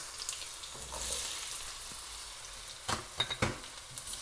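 Potatoes hit hot spiced oil and fry with a soft, steady sizzle, broken near the end by a few sharper crackles and spatters as they are stirred, with no talking over it.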